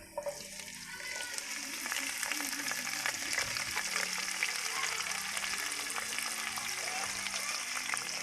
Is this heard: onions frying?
yes